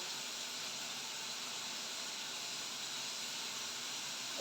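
Tomatoes hit a hot pan of fish kalia curry, giving a steady, loud broadband sizzle that hisses without break and stays close and even throughout.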